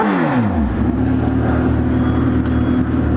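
A Kawasaki Z1000 motorcycle roars loud and close as its exhaust drops quickly from a high rev into a deep, steady rumble that holds for several seconds, with no talk.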